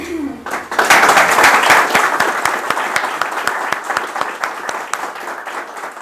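Audience applauding at the end of a talk, a dense burst of clapping that thins toward scattered claps, with a voice speaking briefly at the start.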